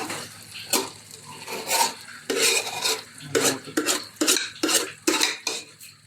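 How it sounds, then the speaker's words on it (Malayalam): Spoon scraping and knocking in a metal pot as boiled tapioca is stirred and mixed for sausage kappa biryani, a steady run of close, clattering strokes with short pauses, no voices. "കപ്പ നമ്മൾ മിക്സ് ചെയ്യാം"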